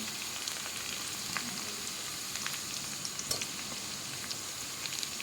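Chopped chili and tomato fry in a pan for a bhetki fish bone chorchori, giving a faint, even sizzle with scattered small crackles.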